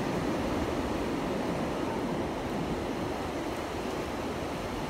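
Ocean waves wash steadily at Double Six Beach in Bali, a continuous broad rushing surf with some wind, fairly close and without voices.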